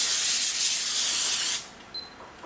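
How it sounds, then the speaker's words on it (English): Cooking spray hisses from an aerosol can onto hands during meal prep, a loud steady spray lasting about a second and a half before cutting off, followed by faint kitchen sounds. "I need to spray my hands too"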